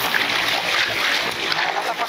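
Water splashed over and around a person's lower legs and trousers: a steady, fairly close rush of splashing and spattering that runs without a break.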